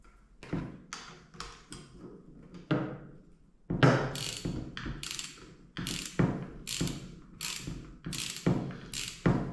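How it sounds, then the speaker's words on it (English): Wrench ratcheting while tightening a Ducati Scrambler 800 front fork during a seal replacement, a series of close, sharp clicking strokes in short bursts with brief pauses between them. "use again the wrench"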